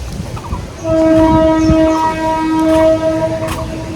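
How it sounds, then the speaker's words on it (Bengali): A train passes near a rooftop, its horn sounding in long, loud tonal blasts over the rolling rumble of the wagons, with a brief break between horn blasts. "ট্রেন যাচ্ছে শুনতে পাচ্ছেন"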